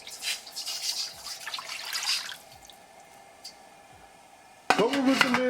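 Water runs from a tap into a big pot for fish biryani, a bright splashing pour in two bursts separated by a quiet gap, the second starting abruptly and ringing in the pot, with some talk nearby.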